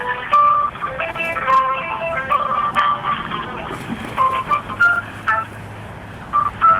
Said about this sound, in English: You just pressed random numbers.